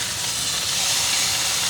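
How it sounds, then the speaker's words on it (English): Pot roast meat sears in a hot pan with a loud, dense, continuous sizzle and hiss heard close up, with no talk. "Now we want to get a nice little sear on here"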